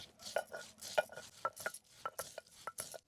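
Roasted coconut crushed and ground by hand on a stone grinding slab, a quick run of close, irregular scraping and knocking strokes.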